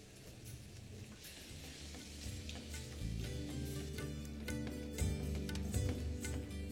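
Egg pulao mixture stirred in a pan over a low flame, giving a steady close sizzle with intermittent scraping and stirring clatter throughout and no talking.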